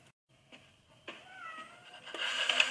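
A pet cat meows in a drawn-out, wavering cry that starts faint and swells louder toward the end, alone with no talking.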